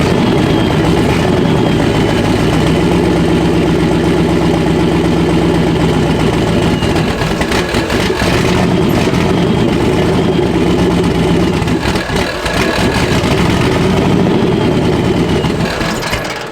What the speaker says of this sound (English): So you're just going to have to kind of keep it idled up with your foot.